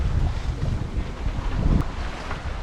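Wind buffeting the microphone aboard a sailboat offshore between the Azores and Madeira at dawn, gusty low rumble and hiss rising and falling, with faint water wash beneath and no voices.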